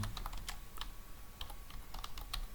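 Someone types HTML code on a computer keyboard while using the CodePen editor. Quiet, close key clicks come in irregular bursts with brief pauses between them, and no one speaks.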